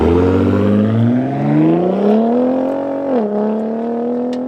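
A 2022 Ford Raptor in Gen 3 Baja mode accelerating hard, its loud engine note climbing steadily in pitch, dipping briefly at a gear change, then pulling again, heard from inside the truck with no talking.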